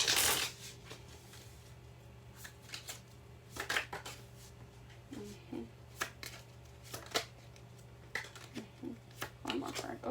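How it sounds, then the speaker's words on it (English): Oracle cards being shuffled by hand in repeated crisp riffling bursts, separated by short pauses, over a steady low hum in a quiet room. "Shuffle one more time."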